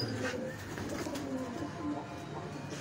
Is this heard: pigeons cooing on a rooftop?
yes